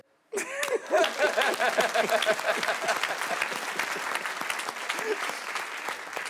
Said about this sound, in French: Applaudissez-le encore.